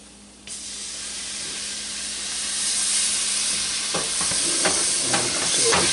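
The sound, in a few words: stock slowly poured into hot roux for seafood bisque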